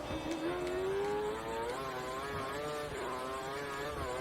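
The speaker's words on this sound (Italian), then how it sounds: "Pensiamo che la vettura alle sue spalle abbia impostato il motore sulla massima potenza." A Formula 1 car engine in the F1 2013 racing game screams at high revs around the Spa circuit, a steady, close, droning whine that climbs and shifts pitch through gear changes, with no talking.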